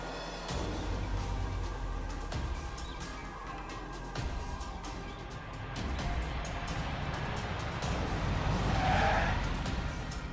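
A car arriving and skidding in the video game Lost Judgment, with a continuous rumbling engine and tire-scrub noise building toward a louder screech near the end, no speech.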